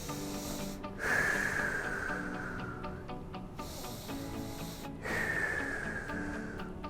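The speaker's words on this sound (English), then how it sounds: "take some deep breaths" Two slow, deep breaths while lying on a foam roller for lower-body relaxation, each a loud airy inhale with a whistly edge that trails off, heard close with no talking.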